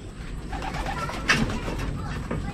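Pigeons coo in a loft, soft low throaty calls repeating against a dull background, with one brief louder flutter or call midway, nearby.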